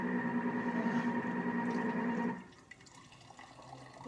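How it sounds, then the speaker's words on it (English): Whey pouring from a Thermomix bowl while making soft cheese at home, a steady close liquid pour that runs for about two seconds and then stops abruptly, leaving quieter drips and faint kitchen handling. "maybe if I pour some of that in there to start."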